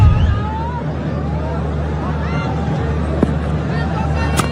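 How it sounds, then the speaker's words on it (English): Stadium crowd at a Pakistan vs South Africa T20 cricket match, a steady dense roar of many voices with a low hum beneath, swelling slightly near the end. "A crowd like that."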